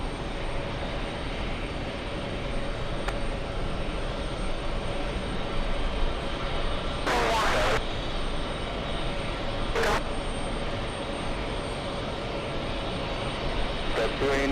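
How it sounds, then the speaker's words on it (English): Qantas jet airliner from Auckland landing at JFK, a steady broadband engine roar holding at even loudness throughout, with a few short sharp bursts on top. "We have the Qantas flight from Auckland."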